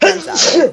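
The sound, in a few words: sneeze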